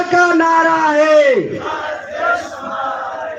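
Crowd at a political rally shouting the Jai Johar slogan, one loud sustained chanting cry that falls off sharply, followed by scattered voices and a second quieter swell of shouting.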